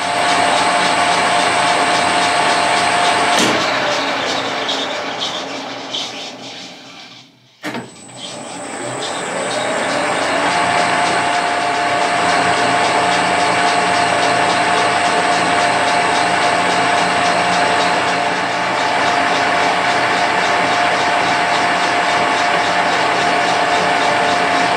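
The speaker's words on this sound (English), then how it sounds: "single point threading technique again with the lathe in reverse and the tool" Steady machining noise from a lathe running in reverse while single point threading a feedhorn, a continuous loud hum with a brief drop partway through, no voices.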